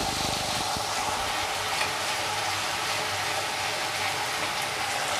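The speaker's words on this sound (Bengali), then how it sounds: "এর মধ্যে আবার দিয়ে দিচ্ছি আলুর পকোড়াগুলো।" Potato pakoras for Potato 65 fry in oil over a high flame, a loud, steady crackling sizzle with faint stirring scrapes throughout and no talking.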